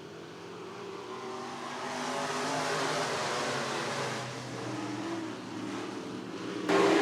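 Pack of hobby stock race cars roaring around a dirt speedway, engines droning and rising in pitch as they roll toward the final turns, a steady layered rumble with no voices.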